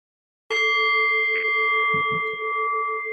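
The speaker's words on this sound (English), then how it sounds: "Maybe I'll ring the bell." A single meditation bell is struck once and rings out with a clear sustained tone that keeps humming without fading much.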